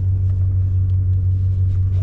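A pickup truck engine idles at an auto auction with a steady low rumble, close and constant throughout, no talking.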